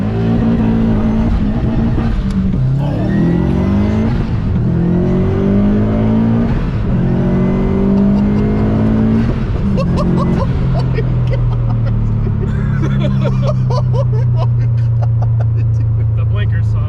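A Subaru GC8 with an STI engine swap and an aggressive stage 3 clutch, engine droning loud and close from inside the car, pitch climbing and dropping through revs and gear changes, with voices talking over it.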